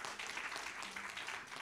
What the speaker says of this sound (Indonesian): Boleh tepuk tangan dulu bagi Raja kita.